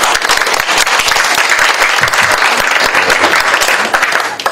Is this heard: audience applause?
yes